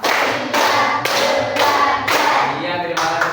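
A classroom of students claps together in an ice-breaking game, loud synchronized bursts of hand claps in a rhythmic pattern of grouped beats separated by short pauses, sounding close and full.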